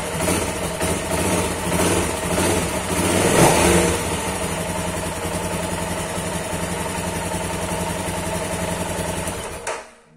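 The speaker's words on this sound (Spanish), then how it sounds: "arrancaba la moto" Motorcycle engine running after spring maintenance in a garage, a close steady mechanical idle with a brief rev swell early on, continuing evenly before cutting off at the end.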